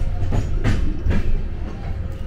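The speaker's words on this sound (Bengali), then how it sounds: "এখন ট্রেনের মধ্যে আছি, অ্যান্ড জাস্ট ট্রেনটা ছাড়লো কিছুক্ষণ হলো" A train rolls along just after leaving Howrah, heard from inside the carriage as a steady low rumble with periodic clickety-clack wheel thumps over rail joints, close and continuous with no talk.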